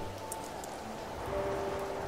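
Rain falls in a soft steady hiss, with faint tonal hums drifting in the background and no one speaking.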